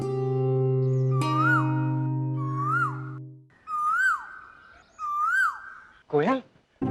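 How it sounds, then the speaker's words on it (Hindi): A koel calling inside a palace, with a short series of clear rising-then-falling whistled notes repeated about four times over a low sustained tone. A sharp, bright call follows at the end. "इस महल में कोयल भी है?"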